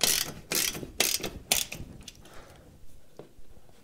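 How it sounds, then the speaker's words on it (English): Screws on a TV wall mount are turned by hand with a ratcheting tool, making four loud bursts of close ratchet clicking in a steady rhythm before weaker strokes trail off. "I'll lift this side up and then just hand tighten it right there."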